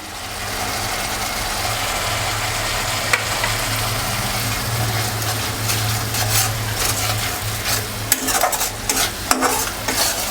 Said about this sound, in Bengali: মশলাগুলো ভেজে নিচ্ছি